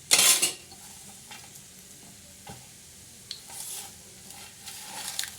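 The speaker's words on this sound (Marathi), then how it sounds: "लाल मिरच्या त्या सुद्धा असं चांगल्या तेलात लाल झाल्या पाहिजे" Red chillies fry in oil in a village kitchen, giving a soft sizzle broken by scattered stirring scrapes and utensil clinks, with a louder burst at the start and quieter crackles after.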